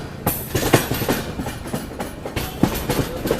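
The Coromandel Express runs on rails near Puri in India, with steady rolling rumble and repeated clickety-clack wheel beats over the track, loud and close, and no talking.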